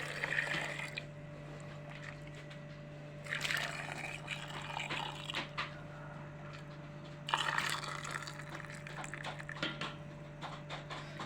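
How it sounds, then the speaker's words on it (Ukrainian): Boiling water poured in three separate bursts into jars, splashing and gurgling as they fill, with a steady low electrical hum underneath. "І наливаємо просто в баночки без ніяких спецій."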